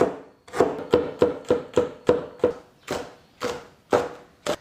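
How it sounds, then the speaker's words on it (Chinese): A knife chops onion, ginger, scallion and garlic on a cutting board, about a dozen crisp, close knocks in a quick even rhythm that slows slightly toward the end, with no talking. "洋葱现在把它切成丝，再来上一点姜、葱、蒜，分别切成片。"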